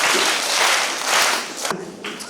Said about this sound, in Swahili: Naomba makofi matatu kwa ajili ya walimu wetu.